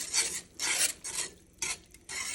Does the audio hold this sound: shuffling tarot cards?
no